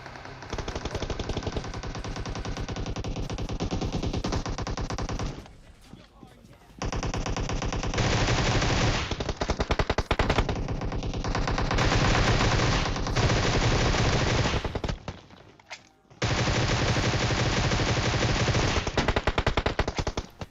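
Sustained automatic gunfire in the mobile battle-royale game PUBG Mobile, loud and dense bursts of rapid shots broken by two brief pauses, with a voice faintly mixed under the firing.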